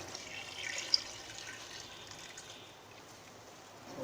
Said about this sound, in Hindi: अब ये मैंने 4 कप पानी लिया है ये शामिल कर दूंगी